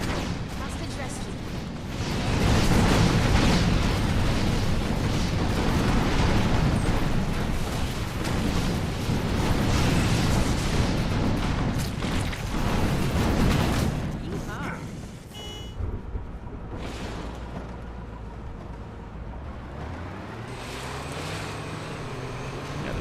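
Rocket launcher blasts in the video game Defiance: dense, loud rumbling explosions pile up over several seconds, then fade into quieter game noise with a rising electronic whine near the end.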